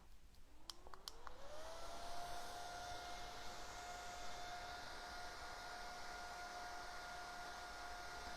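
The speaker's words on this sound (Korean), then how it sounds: "선생님은 이 미니 선풍기가 있어서 살짝 한번 말려볼게요" A small handheld electric fan whirs up with a rising tone and settles into a steady close hum, drying paint on a craft Christmas tree.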